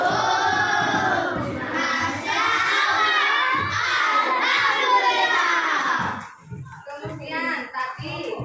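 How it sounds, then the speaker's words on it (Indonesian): Applause and cheering from a crowd of children during a school food-technology lesson, a loud, sustained burst of clapping and shouting that lasts about six seconds before dropping to quieter scattered noise. "Tepuk tangan untuk Mbak Rafa"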